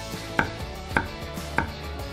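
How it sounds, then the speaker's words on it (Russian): A knife chops red chili pepper crosswise into small pieces on a cutting board, three crisp, evenly spaced knocks, close and clear, with no voices. "Красный перец чили просто режем поперек на небольшие кусочки."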